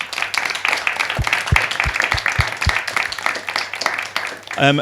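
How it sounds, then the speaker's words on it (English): A seminar audience at a hospitality marketing event gives a round of applause, steady clapping from many hands with a few sharp thumps near the microphone, a voice briefly speaking at the end. "if we could have a round of applause for all of you, please"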